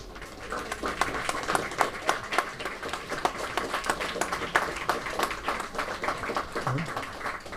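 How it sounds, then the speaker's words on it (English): Audience applause for junior champions at the 2018 Mind Sports Olympiad award ceremony, a steady field of many hands clapping at moderate level, sustained without a break and with faint voices mixed in. "let's give another big round of applause to our junior champions."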